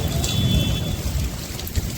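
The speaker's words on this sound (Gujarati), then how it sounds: "આ સાઈડનો પવન છે એટલે આ સાઈડથી આમથી વરસાદ આવે છે." Heavy unseasonal summer rain in Surat pours down with a dense hiss and low rumbling wash, wind-driven and continuous throughout, fairly loud, with water flooding the ground.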